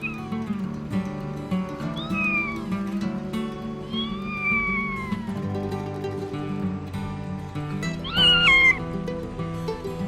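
Kittens meow repeatedly in thin rising and falling cries, several separate calls spaced across the stretch, the last one louder, over a soft steady background hum.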